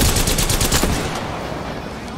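Loud rapid gunfire in a video game, with sniper shots from above during a team fight, crackles up close for about a second and then trails off into a fading rumble.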